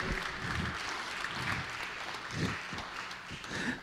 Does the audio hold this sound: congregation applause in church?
yes